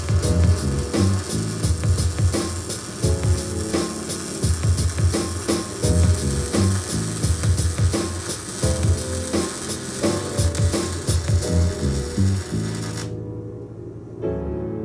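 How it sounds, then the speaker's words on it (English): MIG welding a lap joint on a Titanium Vulcan welder with 035 wire, a steady loud crackling sizzle that runs continuously for most of the clip before cutting off near the end. "Okay, Vulcan lap joint."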